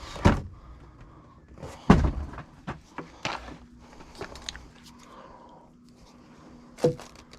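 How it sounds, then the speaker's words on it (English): A door is shut in a hot attic near an air handler, giving a few sharp thuds and knocks with scattered handling clatter and a faint steady hum. "I'll shut the door"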